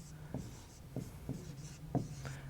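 A pen scratching across paper as notes are written during a geography lesson, several brief strokes with short pauses between them, faint and close, with no talking.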